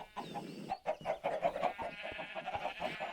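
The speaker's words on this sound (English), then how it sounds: "as you can probably hear. We got chickens down there." Chickens in a video game cluck repeatedly in a busy, overlapping stream, mid-distance and moderately loud, alone without talk.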